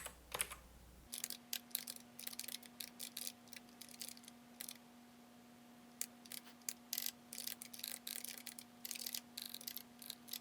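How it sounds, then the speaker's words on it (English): Someone types PHP code on a computer keyboard in a terminal editor, sending quick irregular bursts of soft key clicks with short pauses, close and fairly quiet over a steady faint hum, with no voices. "I just like typing things out"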